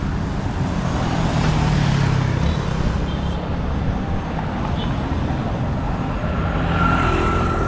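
Cars and traffic rolling past on a rain-soaked street at a pedestrian crossing, a steady wash of tyre hiss and engine rumble with rain noise throughout, continuous and fairly loud.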